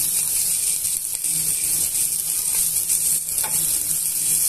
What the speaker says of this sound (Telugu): ఇది కూడా బాగా వేయించేసుకోవాలి. 1 మినిట్ అలా వేగనిచ్చి స్టవ్ ఆఫ్ చేసేస్తున్నామండి.